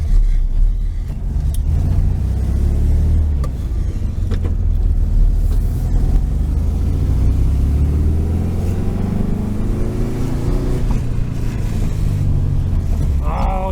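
A 1973 Volkswagen Super Beetle driving on a test run after a front brake bleed, its engine a steady low rumble throughout, with road and drivetrain noise swelling and easing as it moves.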